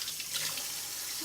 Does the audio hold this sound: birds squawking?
no